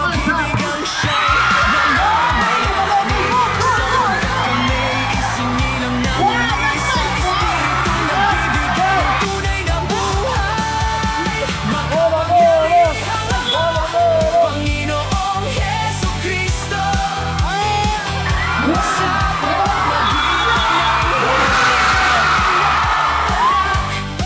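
Crowd yelling, whooping and cheering at an exhibition basketball game between news anchors and a local team at a sports festival in Hong Kong, loud and continuous with bangs and shouts throughout.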